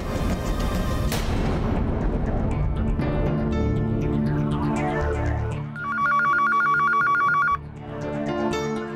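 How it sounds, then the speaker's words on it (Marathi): A telephone rings with repeated electronic tones, loud and close, set against dramatic music swells and low booming hits, with no talking. "तू अक्का साहेबांना फोन कर आणि ही बातमी दे."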